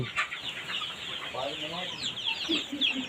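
Chickens clucking nearby in short repeated bursts on a rural fish-and-chicken farm in Isan, Thailand, with a steady outdoor background and a few higher bird calls.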